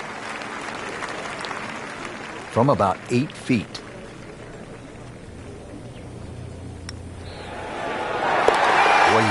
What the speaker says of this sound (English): Crowd goes wild after that eagle